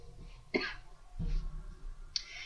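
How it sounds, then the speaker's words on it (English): Two or three short, dry coughs close to the mic, separated by brief pauses, with no talking. "Sorry, guys, I'm coughing."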